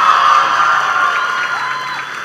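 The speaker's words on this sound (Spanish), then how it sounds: "Un aplauso bien fuerte para ellos." Loud, sustained cheering and applause from a studio audience greeting Grammy-winning vallenato artists on a television program, a dense steady roar of clapping and shouts throughout.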